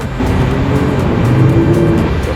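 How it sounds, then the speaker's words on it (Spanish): A sports convertible revs its engine as it drives past on a cold city street in Warsaw, a loud, continuous engine roar that swells and holds close by over steady traffic noise. "acá andan con coche descapotable y a su vez haciendo rugir los motores"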